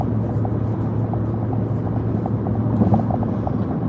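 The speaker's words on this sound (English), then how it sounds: "that blinking light, that's a plane. It's now landing at LAX." Airplane passing over a highway at night on approach to land at LAX in Los Angeles, a steady droning engine rumble mixed with road noise, fairly loud and continuous with no speech.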